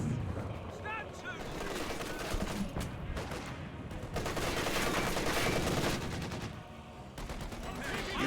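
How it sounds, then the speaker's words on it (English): Panzerwerfer rocket launcher firing in a World War II strategy video game, rapid bursts and crackling gunfire in a dense battle din, with commentators talking over it. "the Panzerwerfer's firing again"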